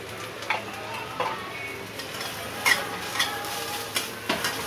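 Turmeric, cumin, coriander and chili powder frying in a pan, stirred with a spoon: a low, steady sizzle under a series of light scraping and tapping strokes about every half second to a second, close and fairly quiet.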